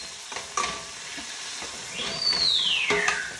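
Food sizzles in olive oil in a pan with a steady, close frying hiss, broken by a few sharp clicks and a high whistling tone that sweeps downward near the end.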